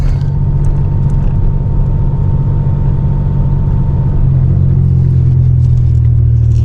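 A 1995-2004 Toyota Tacoma truck drives on a road with a steady low engine and road rumble heard from inside the cab, and a slight rise in drone near the end.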